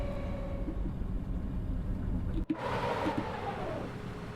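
ČD Class 843 railcar in Train Sim World 6 braking hard with wheels locking, a continuous rumbling rail noise broken by a sharp cut, then grinding, screeching wheel sound that persists.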